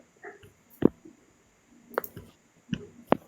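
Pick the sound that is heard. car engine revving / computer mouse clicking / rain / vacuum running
computer mouse clicking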